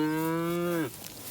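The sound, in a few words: cows mooing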